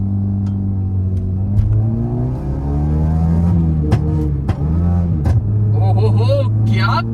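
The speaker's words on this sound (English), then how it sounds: "when you turn off the AC, the rear pops and bangs come out" A modified Maruti Suzuki Swift at full throttle gives a loud, deep revving exhaust drone that rises and falls, broken by sharp pops and bangs, while a voice talks over it.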